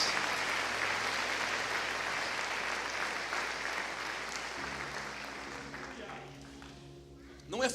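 A church congregation applauds during an evangelical service, with a dense wash of clapping that thins partway through as a low sustained tone enters, ending with a brief louder burst.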